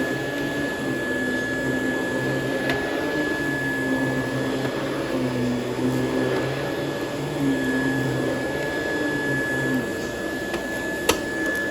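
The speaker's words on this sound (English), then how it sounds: "Also really like that you can get underneath the couch with this power nozzle." A 2016 Rainbow E2 Black vacuum cleaner with its power nozzle runs on carpet and beneath a couch, a continuous close whirring drone with slight shifts in pitch as the head moves and a brief click near the end.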